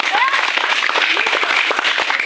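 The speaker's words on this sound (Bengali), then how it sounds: "দুইজন অলরেডি বাদ হয়ে গেছে, ওদের জন্য জোরে একটা হাততালি দাও" Children and adults at a water-and-land party game applaud the players who have just been eliminated, a dense, steady burst of clapping throughout with voices and cheering mixed in.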